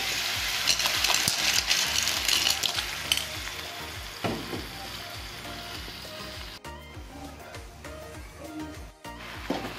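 Sea snails frying in a hot pan, a loud, dense sizzle and crackle with stirring scrapes throughout, steady and close.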